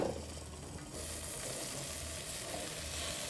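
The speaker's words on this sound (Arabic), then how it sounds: "هنزل بقى بالحمص على الصلصة" Cooked chickpeas dropped into a pot of simmering tomato sauce with turmeric, chili and spices, a soft, steady sizzle that rises in brightness after about a second and holds, heard alone.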